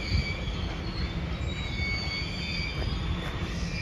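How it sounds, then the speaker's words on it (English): Two trains on a bridge, their wheels squealing with steady high-pitched metallic tones over a continuous rolling rumble, heard from nearby and fairly loud, with no voices. "Stopping because there are two trains on the bridge."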